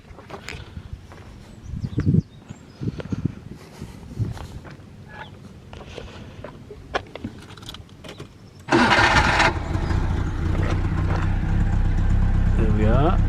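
Ford Capri Cabaret with a freshly replaced timing belt: scattered clicks and workshop handling sounds, then the engine cranks and catches, settling into a loud, steady idle close by.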